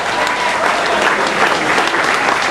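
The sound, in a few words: applause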